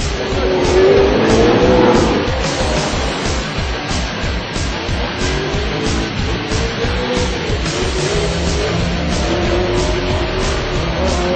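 A Ford Mustang drift car's engine with throttle body injection runs on 116 octane fuel, roaring loud and close with a steady, rough revving note and some tire noise throughout.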